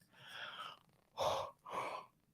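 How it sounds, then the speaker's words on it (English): A person yawns audibly, a long breathy inhale followed by two shorter voiced exhalations, close and fairly quiet with no talk. "I'm yawning. I'm sorry."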